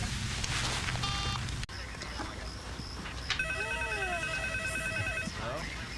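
A telephone rings in a 1999 film scene, with a short trill and then a longer warbling ring set against a busy background of noise and movement.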